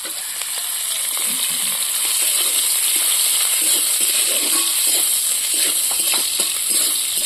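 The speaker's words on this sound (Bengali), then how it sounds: "প্রথমে তেল, নারকেলটাকে ভেজে নেব একটু।" Grated coconut fries in hot oil with a steady, bright sizzling hiss that stays close and fairly loud throughout, with faint crackles and occasional stirring.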